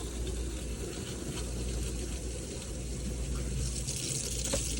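A pump circulating water through the closed-loop air-conditioning system of a 61-foot Hatteras yacht, a steady, close rushing and gushing of water with a low hum underneath, continuous and unbroken throughout.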